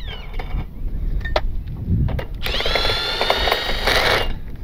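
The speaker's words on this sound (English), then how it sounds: "So I'm going to bolt this down, then we move on." A part is being bolted down on a V8 Willys, with clicks and clanks of tools close by, then a loud whirring power tool running steadily near the end.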